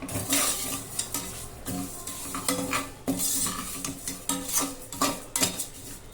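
Vermicelli frying in ghee in a pan, stirred with a metal spoon that clinks and scrapes in a steady rhythm over a soft sizzle, close and without voices.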